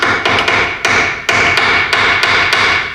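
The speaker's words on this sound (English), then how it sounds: "I'm just going to give it a couple taps" A hammer taps a ball joint into place on a Jeep Dana 30/44 axle, giving a sharp metallic blow roughly every half second, about eight loud ringing strikes heard up close with no talk.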